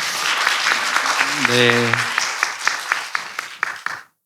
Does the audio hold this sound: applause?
yes